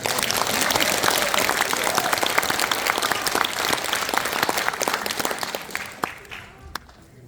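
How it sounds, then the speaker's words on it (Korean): Loud, dense audience applause at a public history lecture on Yi Sun-sin, many hands clapping together throughout before tapering off at the end, with some voices mixed in beneath. "박수 한번 주십시오."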